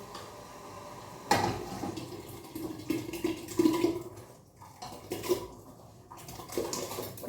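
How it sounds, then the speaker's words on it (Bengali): Washed rice tipped into a pot of water, a sudden splash and pour at first followed by irregular sloshing, clinks and small watery bursts close by. "আর এখন আমি চালটা ছেড়ে দিচ্ছি।"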